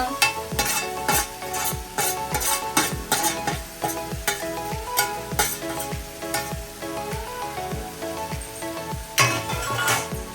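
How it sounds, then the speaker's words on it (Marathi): Mutton tipped into a hot pot for a spicy Maharashtrian mutton dish sizzles steadily while a spoon stirs in repeated scraping, clinking strokes, over a constant tonal background. "हे थोडस मटण जे आहे तर त्याचा आपण आता याच्यामध्ये घालूया"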